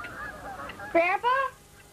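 Geese honking, two loud, close honks in quick succession over a quiet background, with no talk.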